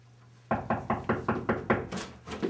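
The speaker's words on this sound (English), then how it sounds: "2 hours later, there's a knock at the door." Someone raps on a flat's door in a rapid series of about eight firm, close knocks, evenly spaced, followed by a couple of lighter taps.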